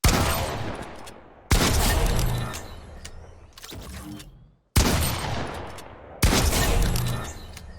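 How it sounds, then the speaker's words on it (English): Rapid shotgun blasts from the Sharp Tooth shotgun in Fortnite, four loud, sharp shots at close range, each cracking hard and then trailing off in a short decay, with brief gaps between them. "All right, sharp tooth headshot, 10 meters out."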